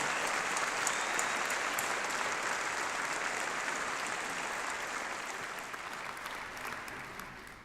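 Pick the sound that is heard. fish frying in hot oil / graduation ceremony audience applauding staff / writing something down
graduation ceremony audience applauding staff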